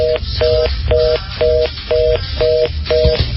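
A telephone rings on a radio call-in show: seven evenly spaced short dual-tone beeps repeating in a steady rhythm, loud and clear over a low background rumble.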